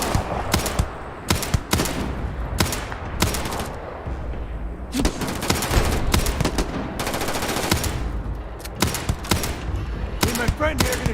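Rapid video game gunfire from Starfield or DayZ, loud and close, arriving in repeated bursts of sharp shots with short gaps between volleys, the densest stretch in the middle, over background game sound.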